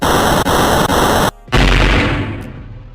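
Anime attack effect for One Piece's Miser Cannon: a dense roaring blast of noise that cuts out abruptly, then a heavy booming impact that slowly decays into a fading rumble.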